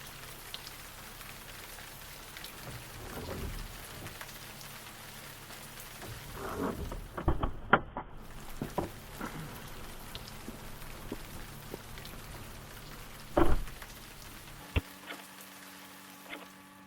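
Steady rain in a video game patters evenly throughout, joined by scattered louder drops and knocks, with no voices over it.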